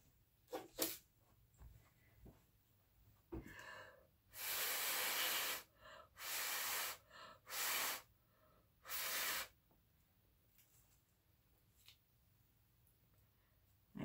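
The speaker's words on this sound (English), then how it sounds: "Let me get my little blower." A small air blower puffs onto a freshly painted ornament in several strong bursts of hiss, each a second or so long, close and loud against a quiet room.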